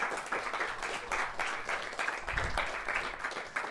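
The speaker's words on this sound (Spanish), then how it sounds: "agradezcamos de nuevo a la profesora Olga con un fuerte aplauso" An audience at an academic colloquium on physics gives a professor a sustained round of applause, a thick wash of many hands clapping with rhythmic pulses, fairly distant and uninterrupted by speech.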